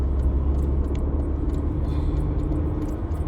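A truck drives on a road at night, heard as a steady, loud low rumble of engine and tires from inside a following vehicle, continuous throughout with no talking.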